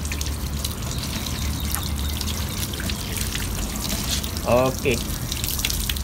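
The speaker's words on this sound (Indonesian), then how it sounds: "Kita jeruskan dengan air bersih dan kipas dulu." Clean water trickles and splashes over a car headlamp during rinsing, a soft continuous flow under quiet background noise, with a brief word spoken near the end.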